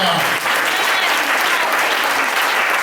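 A church congregation applauds in praise of Jesus, a dense, continuous wash of clapping from many hands that fills the room, loud and sustained.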